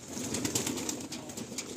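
Lightweight flying pigeons kept for sale in Behala coo in a soft, continuous, low murmur, close by, with no talk over them.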